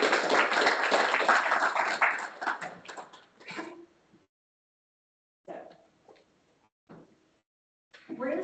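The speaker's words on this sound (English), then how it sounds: "Please welcome them with some applause." Audience clapping for panelists at a SWIB meeting, a dense burst of applause for about four seconds that breaks off, followed by short scattered claps and brief sounds in a quiet room.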